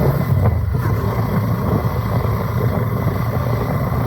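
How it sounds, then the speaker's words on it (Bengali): A Hero Xtreme 125R motorcycle engine running on the road, a steady low droning hum with wind rush over the microphone, loud and continuous throughout. "গাড়ির ইঞ্জিন সাউন্ড আশা করি আপনারা শুনতে পাচ্ছেন"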